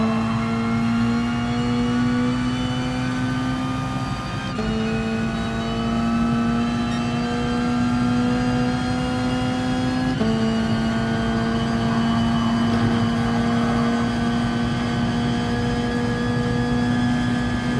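A racing car in a racing video game holds full throttle on Circuit de Sainte Croix B, its engine a steady, loud droning whine that climbs in pitch, dropping back at two quick gear shifts before rising again.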